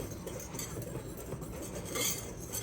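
A metal whisk scrapes and clinks steadily against a bowl while mixing dry flour, cocoa, baking soda and salt for red velvet cookies, a close, continuous rattling with no talk.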